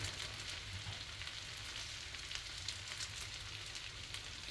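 Curry leaves crackle in a pan of frying onions and chilies for a quick chutney, a faint, even sizzle that holds steady the whole time with no voices.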